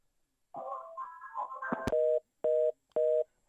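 Telephone line on a radio call-in show after the caller hangs up: a short garbled burst of line noise, then three evenly spaced, loud beeping tones repeating steadily.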